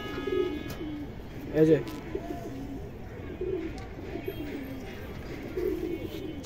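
Highflyer Indian kaldom pigeons coo in repeated soft, throaty phrases close by, while someone talks over them.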